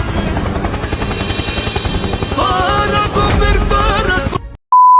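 Helicopter rumble in a war film scene set in Iraq, a loud, steady rotor thudding with engine roar, joined by sharper bursts toward the end before cutting abruptly to silence and a short electronic beep.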